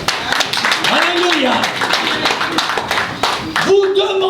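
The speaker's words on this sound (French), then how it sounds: "Asseyons-nous et applaudissons la parole de Dieu." A church congregation claps and applauds during a French and German service, with dense clapping throughout while voices call out and a singer joins near the end.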